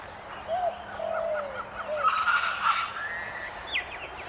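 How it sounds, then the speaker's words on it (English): Noisy miner, a native Australian honeyeater, giving a run of piping notes and slurred whistles, then a harsher burst of scolding chatter partway through, fairly close and clear over a quiet outdoor background. "The noisy miner is a native Australian honeyeater, often mistaken for the common myna"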